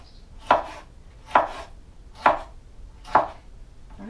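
A knife slices through Roma tomato on a cutting board in four evenly spaced, close, crisp chops, with quiet between each stroke.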